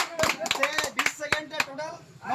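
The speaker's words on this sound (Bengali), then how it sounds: "মিস্টার গোবিন্দ সিংহ তালি বাজাও তালি বাজাও" Several sharp claps ring out for the winner of a sweet-eating contest, a brief scattered burst mixed with voices and crowd noise nearby.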